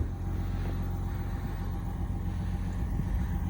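A 2021 Chevrolet Silverado's 3.0L Duramax diesel idles in a steady, low, even rumble, close and continuous without revving.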